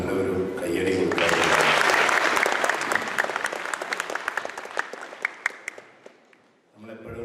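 An audience at an Islamic parenting talk breaks into sustained, dense applause after a speech, swelling quickly, then thinning to scattered claps before fading out as a voice resumes.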